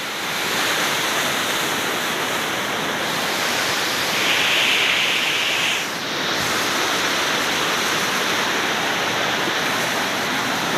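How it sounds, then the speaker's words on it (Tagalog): Libtong Falls pours in a constant broadband roar of rushing water, steady and loud throughout with a brief hiss swelling midway and no talking. "Dito pa tayo ngayon. Sa Libtong Falls."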